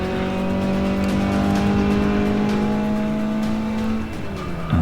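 A Mazda MX-5 race car in Forza 6 at Watkins Glen, engine held at a steady high-revving drone close up, then dropping off abruptly with a gear change near the end.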